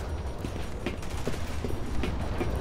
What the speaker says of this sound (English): Where's that shooting coming from?